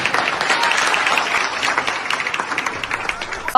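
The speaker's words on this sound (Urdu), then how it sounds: "ان کے لیے بھرپور تالیاں ہو رہی ہیں۔" An audience at a rally applauds the martyrs with dense, sustained clapping from a crowd, loud and continuous before it thins out toward the end.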